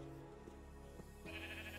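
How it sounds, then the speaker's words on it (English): Sheep bleat repeatedly in the video game Minecraft, hardcore version 1.18, a steady wavering chorus of close overlapping bleats. "sheep are... mobs in Minecraft"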